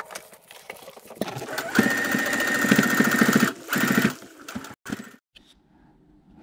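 A sewing machine stitches cloth for a face mask in a fast, loud mechanical run of a couple of seconds, stops briefly, restarts, then winds down in short bursts before quiet.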